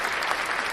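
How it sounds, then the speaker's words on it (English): Podcast audience applauding a guest named Brittany: a steady, dense wash of clapping hands that holds at an even level throughout the short moment, with no voices over it. "Let's go ahead and give Brittany a round of applause"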